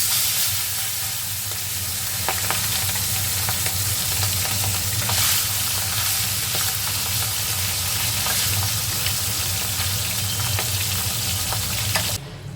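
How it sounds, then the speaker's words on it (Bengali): Fish curry bubbles in a pot, giving a continuous, even hissing and simmering sound with faint clicks, loud and close throughout and without speech. "এদিকে মাছের ঝোল ফুটছে"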